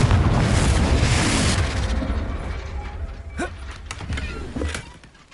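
A Confringo blasting spell in a video game sets off a deep, rumbling explosion that rolls and slowly fades, followed by a few faint mechanical clicks and thuds.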